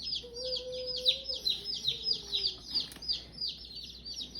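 Mail-order baby chicks in a homestead brooder give a rapid, continuous run of high, close peeps. A faint low hum sits underneath.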